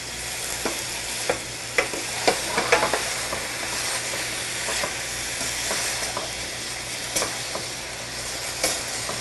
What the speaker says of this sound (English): Grab my apples, and in they go. Give them a nice stir so they get coated.